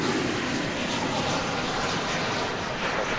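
A Qatar Cargo Boeing 777 at DFW Airport gives a steady, loud, broadband engine roar, unbroken throughout with no talk.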